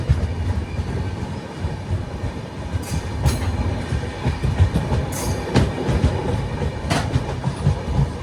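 Sleeper-class express train from Yesvantpur to Sindhanur rolling through villages as it nears Gangavathi station: a steady heavy rumble with rhythmic clicks of wheels over rail joints, heard from inside the coach.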